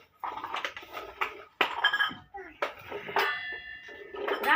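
Spoons, bowls and kitchen utensils from a shop delivery clink and rattle in separate bursts as they are handled and set down indoors, with people talking over the clatter.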